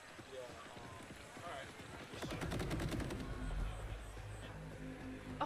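Rapid bursts of gunfire from the Borderlands 4 video game, a dense rattling volley in the middle with scattered shots around it, heard over game sounds while people talk throughout.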